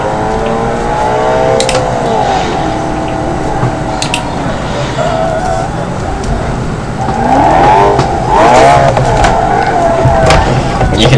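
An old supercar with no stability control drifts in BeamNG.drive, its engine droning loudly and steadily and rising into revs, with tires squealing and scrubbing through the slides.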